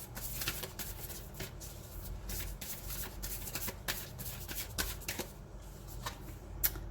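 A tarot deck is shuffled to draw a single card, making a soft, continuous, close flutter of sliding cards with small crisp snaps throughout, over a low background hum, and no one speaks.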